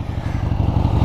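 An old Harley-Davidson motorcycle, forgotten for years and being ridden for the first time in decades, rumbles loudly and close with a low, lumpy, pulsing engine throb over about a second.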